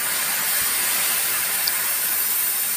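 A gas cutting torch slicing through a steel plate, a loud, unbroken roaring hiss close by with no pauses.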